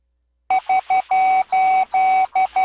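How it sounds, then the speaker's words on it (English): A Morse code SOS sounds as a loud electronic tone: three short beeps, three long ones, then two more short beeps, crisp and isolated against silence. "That was the international Morse code signal, Save Our Ship"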